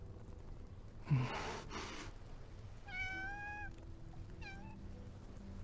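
A cat in the Love and Deepspace game lets out a couple of clear meows, preceded by a sharp gasp-like breathy burst, with a short pause between the calls.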